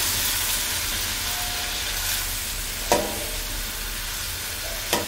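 Cumin seeds and spring onion whites fry in a pan, giving a steady, even sizzle with two brief stirring scrapes near the end and no voices.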